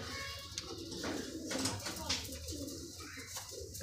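Pigeons coo softly and repeatedly inside a loft of high-flying Madrasi birds, low and murmuring, with someone talking over them.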